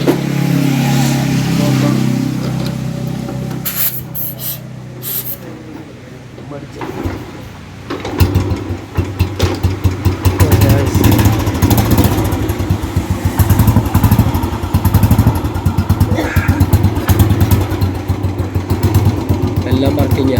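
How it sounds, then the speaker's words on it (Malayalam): A 2000-model military Royal Enfield Bullet motorcycle starts and settles into a steady, close-up thumping idle. People talk at the start of the clip, before the engine catches. "വണ്ടി ഒറ്റയടിക്കുന്ന സ്റ്റാർട്ടായി കേട്ടോ."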